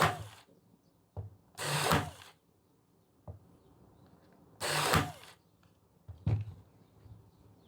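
A Jumlee battery brad nailer drives pins into soft pine with about five sharp, loud bursts spaced by quiet gaps.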